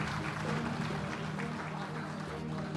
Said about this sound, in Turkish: Alkışlar bitmesin lütfen. O alkışlar devam etsin.